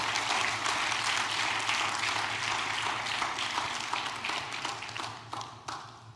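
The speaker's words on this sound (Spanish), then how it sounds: "démosle fuerte ese aplauso al Señor" A church congregation bursts into loud, dense applause during a sermon, a sustained wash of many hands clapping that thins out toward the end with a few scattered claps.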